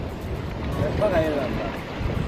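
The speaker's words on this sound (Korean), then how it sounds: "바람 개같이 부네요" Strong wind blowing over the sea beside a small outboard boat during squid fishing off Tongyeong, a constant loud rush with faint voices in the background.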